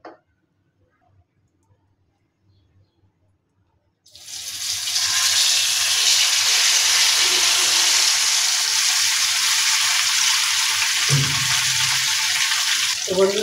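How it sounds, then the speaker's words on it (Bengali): Fish drops into hot mustard oil in a pan over a gas flame, and after a few seconds of near silence a loud, steady sizzle bursts out and holds, close and continuous. "আজকে মাছটা আমি সরিষার তেল দিয়ে ভেজে নেব।"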